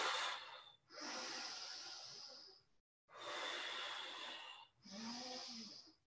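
Heavy, rhythmic breaths in and out during a Pilates hundreds mat exercise, four long breathy pushes in steady succession with a short silence in the middle, close and fairly loud with no talking.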